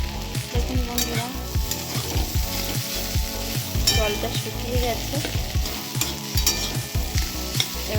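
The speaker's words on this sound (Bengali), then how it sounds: "এবার আমি একটুখানি এটাকে ভালো করে ভাজা ভাজা করে নেবো" Potatoes and pointed gourd fry in a pan with loud, steady sizzling and repeated scraping stirs of a spatula, close and continuous throughout with no talk.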